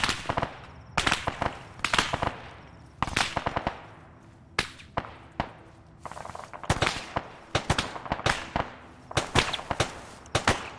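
A light machine gun fires in a video game, loud and close, with rapid bursts of sharp cracks repeating in quick clusters and short pauses between them throughout.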